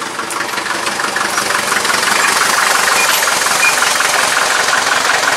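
A Mercedes 208 T1 van's diesel engine idles loudly and close by as it pulls up, a steady knocking rumble heard on its own without voices.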